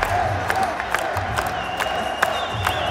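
A large crowd at an MMA fight night in Dagestan cheers and shouts continuously, a loud, dense roar with whoops rising through it.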